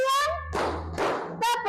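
Schoolchildren in a classroom clap together in a rhythm game, a few short bursts of hand claps between stretches of a teacher's voice giving the cue.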